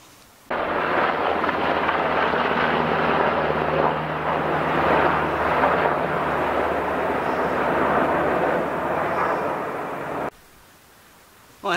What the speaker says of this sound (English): that helicopter earlier was probably from the military reservation that's nearby, Indiantown Gap